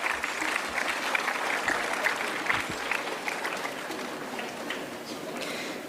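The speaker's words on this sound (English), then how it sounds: "Let's give all our middle school performers a big round of applause for their creativity and" An audience gives sustained, fairly dense applause for middle school performers at a school day celebration, with the clapping continuous and slowly easing off toward the end.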